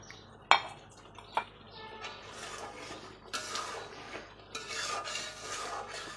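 Eggs are dropped into a pan of milky egg korma with green chillies, followed by a couple of sharp knocks and then scraping, rubbing stirs of a utensil against the pan. The sounds are quiet and close.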